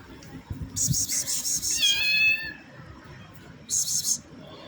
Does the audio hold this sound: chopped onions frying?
no